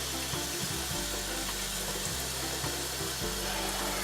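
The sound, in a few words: filling a big cooking pot with water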